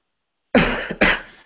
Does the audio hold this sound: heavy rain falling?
no